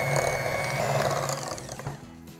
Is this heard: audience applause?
no